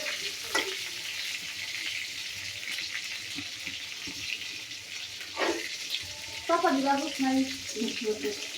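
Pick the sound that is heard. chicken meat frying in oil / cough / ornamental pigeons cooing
chicken meat frying in oil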